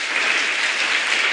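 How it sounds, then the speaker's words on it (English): Audience applause at a Family Bank Foundation scholarship event, a steady dense wash of clapping held evenly through the whole moment with no voices over it. "Please clap for Family Bank Foundation."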